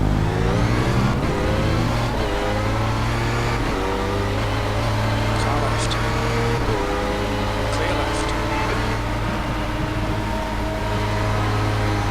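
An Audi R18 race car at Spa re-accelerates in first gear, its engine droning steadily and loudly with rising, layered harmonics for the whole stretch, close and unbroken.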